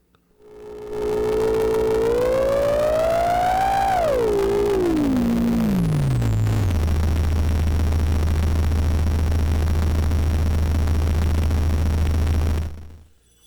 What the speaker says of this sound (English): As I turned it down, it went below the area of bass notes into the area of just fuzz and gunk.